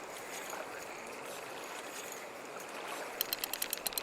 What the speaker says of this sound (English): What's over here splashing?